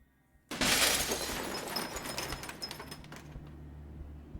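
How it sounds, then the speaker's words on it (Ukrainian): Glass shattering inside a house in the game Home Alone: a sudden loud crash followed by a spray of tinkling shards settling and scattering for several seconds. "Він скло розбив."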